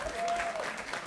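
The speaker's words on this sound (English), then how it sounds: "Round of applause for that fella." Theatre audience applauding a guest at a live comedy podcast recording at Leicester Square Theatre, a brief steady burst of crowd clapping heard up close.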